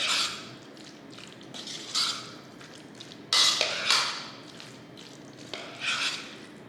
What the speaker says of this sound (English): And just stir it up. Get all those potatoes coated.